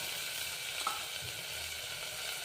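Faint, steady sizzling of spices tempering in hot oil for a peanut curry, with a soft pop near the middle, quiet and continuous, no voices.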